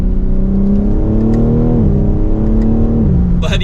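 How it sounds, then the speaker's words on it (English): A 2025 BMW M4 Competition Convertible engine pulls steadily under acceleration, its rising tone shifting as the gears change, loud and close with no talk over it. "with a mild acceleration, this is a quick car"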